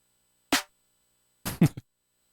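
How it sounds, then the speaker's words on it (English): Dry snare drum sample called Uppies, struck once alone, then after a short gap a quick double hit with a brief trailing tap, each crisp and close with no other sound. "Now, Uppies Snare sounds like this."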